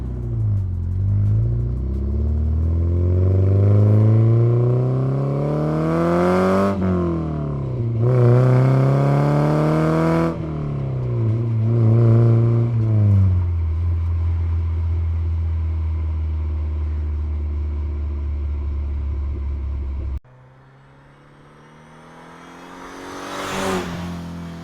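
A Porsche 944 engine revs through an aftermarket muffler, recorded from behind the car: repeated rising and falling revs over a deep rumble, then it settles to a steady idle and finishes with one sharp blip.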